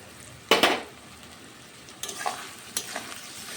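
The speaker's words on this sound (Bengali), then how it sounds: "মাছটা ভাজতে একটু সময় লাগবে" Quiet background sizzle of fish frying in oil, broken by a few sharp clinks and scrapes of a utensil against the pan.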